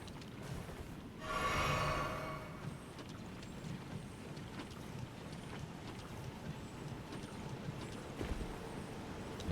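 Hooves of the horse Torrent clip-clopping in the Elden Ring video game, a steady run of light hoof beats over a noisy game soundscape with a brief swell of louder sound early on.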